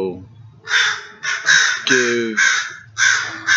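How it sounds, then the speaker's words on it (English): Several crows caw loudly outdoors, close by, in a series of harsh repeated calls with short gaps, some overlapping, standing out sharply against a quiet background. "Those crows are going crazy."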